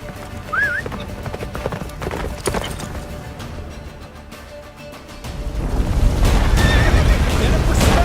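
Roach, Geralt's horse in The Witcher 3, whinnies early on and then gallops with steady hoofbeats, which swell into a louder, sustained rush of galloping toward the end over game music.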